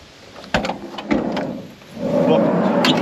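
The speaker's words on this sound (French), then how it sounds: "Porte latérale. Avec marchepied." The sliding side door of a 1987 Volkswagen T3 Caravelle with a step clunks and rattles along its track, with several sharp knocks followed by a longer rolling slide, close up.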